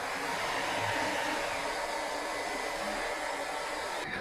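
A DJI Romo P robot vacuum cleaner running indoors, a steady loud whirring hum held throughout with no talk.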